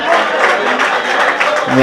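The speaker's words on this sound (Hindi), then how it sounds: "ताली कमजोर है आपकी, जैसा मैंने शेर पढ़ा है, ताली कमजोर है।" Audience applause at an international mushaira poetry gathering, a loud, dense stretch of many hands clapping with crowd voices mixed in, continuing steadily for under two seconds.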